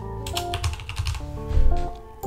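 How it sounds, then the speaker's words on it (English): Keys on a computer keyboard clatter in quick, close, fairly loud bursts of typing with brief uneven pauses, with no voices. "So I'm just gonna type something here."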